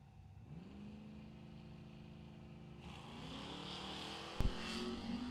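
Drag racing cars, a Nova and a '79 Malibu, roar down the strip with a steady engine drone that swells louder partway through, then a sharp bang near the end, heard from a distance.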